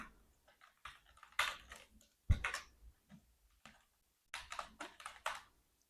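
Scattered keystrokes tap on a computer keyboard as an email address is entered, short clustered bursts of clicks with pauses between, close and fairly quiet.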